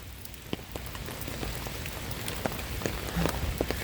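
Rain falls outdoors on a wet day, a soft steady patter with scattered distinct drops ticking on nearby surfaces, fairly quiet and continuous, with no voices.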